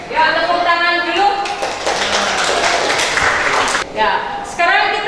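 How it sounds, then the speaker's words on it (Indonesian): Students in a classroom clap together in a burst of applause lasting a couple of seconds, framed by a teacher's speech before and after. "Ya, tepuk tangan dulu."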